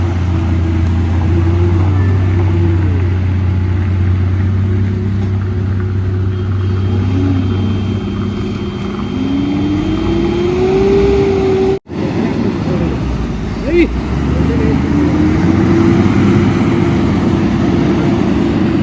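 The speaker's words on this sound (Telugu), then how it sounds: "గడ్డలు ఎక్కలేక చచ్చిపోతున్నాయి బండ్లు." Heavy trucks labour up a steep slope on a dangerous turning, their engines droning low and loud with long sustained strain and rising pitch sweeps, a brief dropout midway before the heavy grinding resumes.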